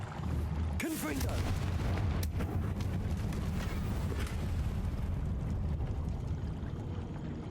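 A Confringo explosion spell going off in Hogwarts Legacy on PC, one sharp burst early on, then a sustained roaring, crackling rumble that carries on steadily through the rest of the moment.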